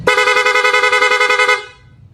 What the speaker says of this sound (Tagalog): Napakalakas ng busina